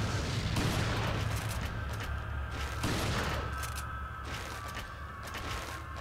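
Gunfire in Resident Evil 4 on the Wii, a dense, sustained burst of loud shots and battle noise with fast rhythmic crackling throughout.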